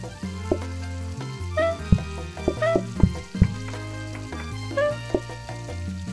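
Frying pie in the cooking video game Plate Up, with busy kitchen clatter and sizzling over steady background music, with sharp effect hits spaced across the clip.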